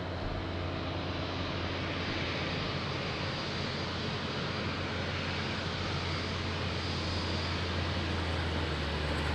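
Loud, continuous jet engine roar from an airliner at Lisbon Airport, a broad steady rumble with no breaks.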